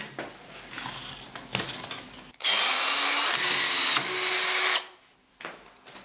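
A belt-fed drywall screwdriver whirs loudly at close range for about two and a half seconds while driving screws, framed by quieter clicks and handling noises.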